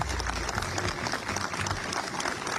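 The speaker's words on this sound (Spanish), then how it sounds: "El aplauso lo vamos a escuchar." A studio audience applauds on a television talk show, with dense, steady clapping and a faint crowd murmur continuing throughout.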